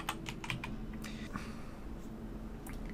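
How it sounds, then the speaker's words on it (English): Rapid keystrokes on a computer keyboard entering a WSL install command for Debian, a close, crisp run of clicks in an uneven typing rhythm over quiet background hum. "so we just type Debian."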